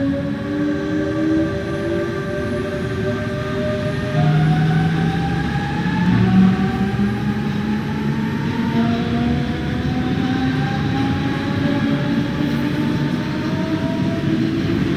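A DB BR425 electric multiple unit in Train Sim World 2 runs steadily, its rising and falling motor whine layered over continuous loud rail rumble, with no voices.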